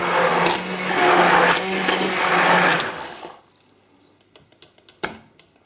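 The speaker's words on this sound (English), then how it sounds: "I'm just going to use my blender." A blender purees a Mediterranean meat stew, a loud, steady whirring roar for about three seconds before it cuts off, leaving near quiet with a few faint clinks and one sharp knock.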